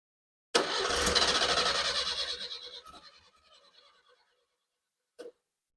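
A 1975 SEAT 850, unstarted since the 1990s, cranks and catches with a loud rough burst, its engine sputtering for a few seconds before dying away. A brief knock follows after a pause, and no one speaks.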